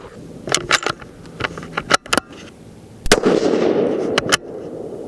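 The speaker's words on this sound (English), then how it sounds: "we're gonna go for the bottom right diamond here, and we're gonna hopefully shoot them all in one hole." A Tikka T3X Super Varmint rifle chambered in .223 Remington and firing Hornady bullets lets off a series of sharp, loud cracks at irregular intervals outdoors. Some are close together and they are set against a quiet background.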